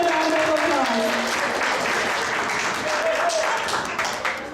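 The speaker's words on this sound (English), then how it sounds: "give yourself a round of applause" A festival audience gives sustained applause, a dense wash of clapping from a crowd. Voices are faintly mixed in.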